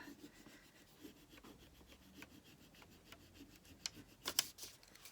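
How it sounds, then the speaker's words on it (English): Steady scratchy rubbing of a decor transfer being pressed onto a wooden board, a continuous low friction texture at close range with a few sharper scrapes near the end, no voices. "I'm going to start rubbing from this side"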